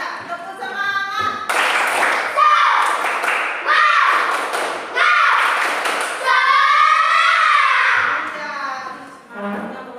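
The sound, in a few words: class doing rhythmic 'tepuk semangat' clapping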